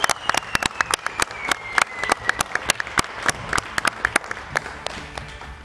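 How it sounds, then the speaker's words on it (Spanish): Studio audience applause on a television news program, a burst of crisp, irregular hand claps at moderate volume that holds steady throughout. "Y un aplauso a Michelle, que está grueso. Y también a Joshua"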